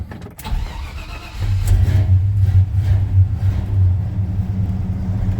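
A 1966 Chevy C10 pickup engine catches and settles into a loud, close, steady rumbling idle with a deep low drone, following an initial cranking burst.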